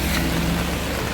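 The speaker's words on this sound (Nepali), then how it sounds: "यत्रो पानी परिरहेछ" Heavy rain pours down in a dense, unbroken hiss, loud and close, with a low roar underneath and no voices.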